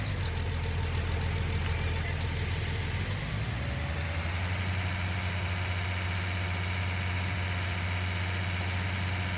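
A steady, low tractor engine in Farming Simulator 19 idles and rumbles continuously, its pitch shifting slightly early on before settling into an even drone.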